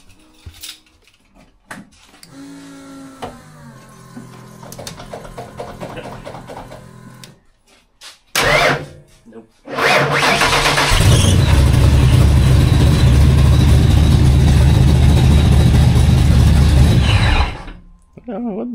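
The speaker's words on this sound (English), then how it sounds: "let's try to give it a crank before we do anything and just see how it is from cold" A cold Fox-body car engine with its battery mounted in the trunk cranks briefly, then catches and roars loudly into a steady idle close by, with some handling noise and quiet sounds before it starts.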